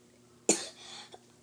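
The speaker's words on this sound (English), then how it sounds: "that was me coughing right there" One person gives a single sharp cough, close and fairly quiet, followed by a softer breathy tail and a faint second catch, with no talk.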